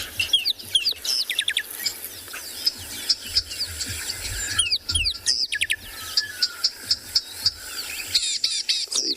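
Harsh, repeated calls from a songbird at a South African safari site, given in place of its song: scratchy bursts spread across the stretch, mixed with other bird chirps over low ambient rumble, no talking.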